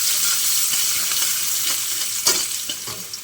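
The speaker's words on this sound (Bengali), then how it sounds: "গাজর দিয়ে একটু নেড়ে চেড়ে নেবো।" Carrots stir-fried with lightly fried paneer in a home kitchen pan for fried rice: a steady close sizzle runs throughout, broken by a few brief scraping stirs toward the end, with no talking.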